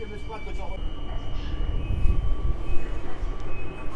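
Train at Warszawa Wschodnia station with an EU44 Husarz electric locomotive, rumbling low and steady with a faint tonal whine, while someone talks nearby over the rolling noise.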